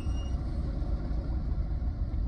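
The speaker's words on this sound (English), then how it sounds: "it's just three cars just ran the red light" A steady low rumble of road traffic, with vehicles passing at moderate distance, fairly faint and continuous with no talking.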